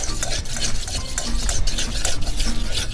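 Glue and slime activator being mixed in a bowl, giving a continuous wet stirring and squelching sound at close range with no talking, steady throughout.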